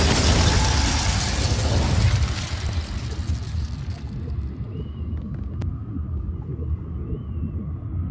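An Incendio fire spell is cast in Hogwarts Legacy, a loud whooshing burst of flame that roars for about two seconds and then falls back to a softer rumbling bed of game ambience.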